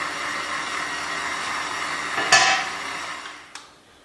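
An electric mixer creaming butter for banana bread, a steady close whirring drone that ends with a clatter, followed by a brief knock and then quiet.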